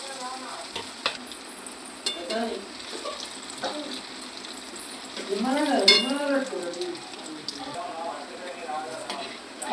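Taro root (chamagadda) frying in hot oil gives a steady close sizzle with stirring clatter that grows busier midway, and a person talks over it.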